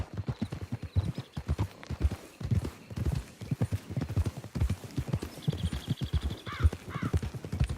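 Horse hooves clip-clop at a steady walking rhythm in Red Dead Redemption 2, close and clear, with a few faint bird calls and a short whinny-like sound over the plodding steps.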